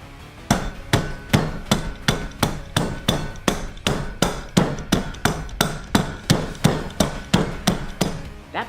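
A wrench pounds ice inside a canvas Lewis bag for a cocktail, landing about seventeen loud, evenly spaced heavy thumps in a steady rhythm, close by and without any talking.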